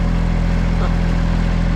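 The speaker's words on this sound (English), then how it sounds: "This is us riding the tractor up and down the street" A tractor engine runs steadily while being ridden up and down a street, a loud, constant low throbbing drone with no pauses.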